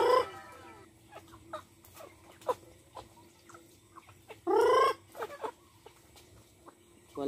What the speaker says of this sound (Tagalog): yung alaga naming mga chicken, native chicken